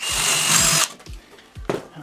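A power drill bores a hole during construction of a Seawind kit, running as a loud, steady whine for almost a second before stopping, followed by a few soft knocks and handling sounds.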